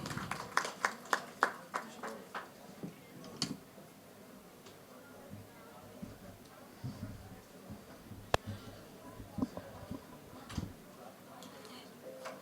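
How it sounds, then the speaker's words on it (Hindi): At an occult summit gathering, a burst of scattered, sharp hand claps opens the moment and thins out quickly, followed by a quieter room with a speaking voice and a few isolated claps later on. "प्लीज तालियां।"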